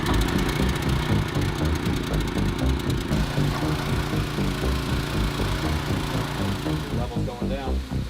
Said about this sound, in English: So fire up the pump.